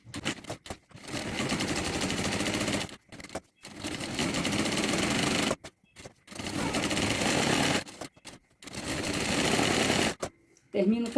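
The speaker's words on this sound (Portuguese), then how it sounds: "Agora eu vou costurar a de 50 centímetros da mesma forma e vou dar uma aceleradinha no vídeo." A sewing machine stitching a 50 cm bag strap, sped up, with fast buzzing bursts of several seconds each separated by short pauses, close and steady, no talk.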